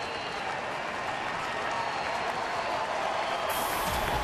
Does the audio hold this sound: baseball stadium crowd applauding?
yes